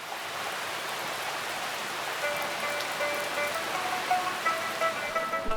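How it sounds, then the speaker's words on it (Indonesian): Light drizzle falls at Teluk Tamiang beach in Indonesia, a steady soft hiss of rain on surfaces with scattered droplet taps growing slightly denser toward the end, no voices. "Ya, gerimis. Sepertinya sebentar lagi hujan turun deras."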